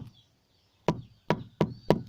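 Sharp metal taps while straightening a thin reed for a Thai khaen mouth organ, four crisp knocks with short pauses after a quiet start, close and alone.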